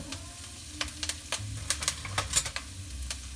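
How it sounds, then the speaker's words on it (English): Ingredients stirred around in hot oil in a smoked iron skillet, a steady close sizzle broken by sharp scraping clicks of the utensil against the pan, with no talking. "I'm just going to stir that around, get it nice and warm."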